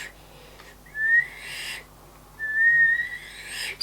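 Attempted whistling: two thin, wavering whistle tones, each about a second long, separated by breathy pauses, faint and close with no talk.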